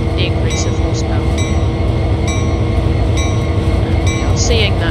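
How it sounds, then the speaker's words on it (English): A diesel train engine accelerating on Sand Patch Grade in Train Sim World 2 drones with a steady low rumble while faint metallic clicks and a high-pitched squeal ring out intermittently over the continuous mechanical hum. "This train should accelerate a little bit faster because of the increase of horsepower."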